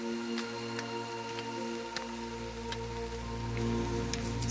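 Steady rain falls outdoors along a river, with scattered sharp drop impacts over a continuous wash and a low hum underneath, all without voices.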